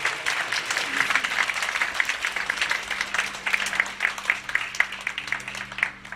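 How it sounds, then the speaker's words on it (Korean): A church congregation gives a renewed round of applause at the 100th regular session opening worship in Bucheon Seomun Church, a dense, steady wash of many hands clapping together that holds for several seconds. "다시 한번 박수."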